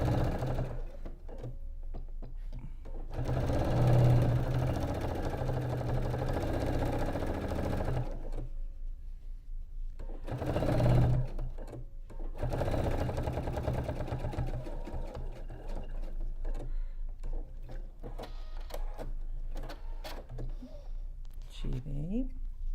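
A sewing machine stitches a patchwork triangle block with its stitch length set shorter. Loud steady whirring runs close up in long bursts with pauses between, and a voice speaks at times.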